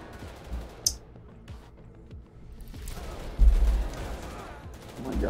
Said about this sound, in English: God, stop shooting at me, man.